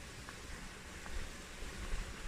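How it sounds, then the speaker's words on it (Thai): Clear water from an underground spring flows out of the ground as a steady, soft, even rushing hiss, with nothing else standing out above it. "น้ำไหลมาจากตรงนี้นะคะ"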